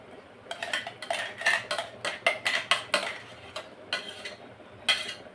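A thick ground ash gourd paste being scraped out into a plate, a quick run of light metallic spoon clinks and scrapes against the dishes, fairly faint and close, then a final scrape.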